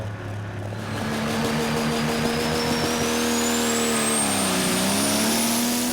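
A loud pulling tractor engine roars and revs at a European tractor pulling championship in Brande, Denmark, rising from idle to a sustained, high-pitched scream with a rising whine as it pulls.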